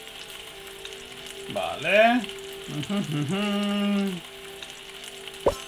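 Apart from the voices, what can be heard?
burger patty sizzling on grill in video game Galaxy Burger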